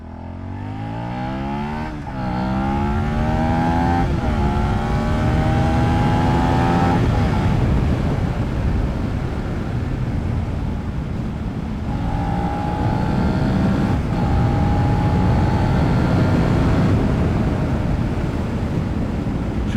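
A 2022 Suzuki SV650 motorcycle being ridden, its engine note climbing through several gear shifts as it accelerates, heard up close from the rider's position with steady wind rush over the microphone.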